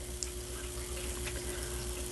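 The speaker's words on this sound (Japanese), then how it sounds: "春爛漫の原尻の滝です" Water pours steadily over Harajiri Falls, a broad curtain-shaped waterfall framed by cherry trees in full spring bloom, heard as a constant, even rushing wash with no pauses.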